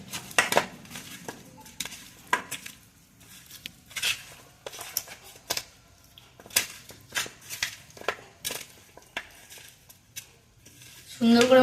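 Chicken legs being mixed by hand with coriander powder, chili, salt and turmeric in a bowl, giving soft intermittent clinks and scrapes against the dish in an uneven rhythm, with a louder clatter at the end.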